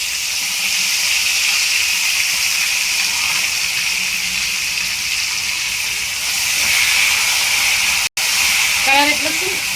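Curry leaves drop into hot oil that already holds cumin and fenugreek for a tomato pachadi, giving a steady, loud hiss and sizzle. The crackle holds for several seconds with a brief cut near the end, and voices talk faintly underneath.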